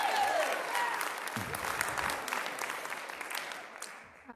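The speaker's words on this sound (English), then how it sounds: "I'm not going to get those claps." Sustained applause from the audience at a Dallas city plan commission public comment meeting, dense clapping that starts strong and gradually thins out, with faint voices underneath.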